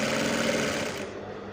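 A sewing machine runs steadily while stitching the hem of a cowl kaftan, a dense close mechanical whir that fades slightly near the end, with no voices.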